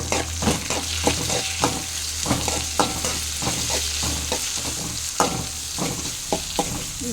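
Tomatoes frying in a pan, a loud constant sizzle broken by regular scraping stir strokes and light utensil knocks, close up with no voices.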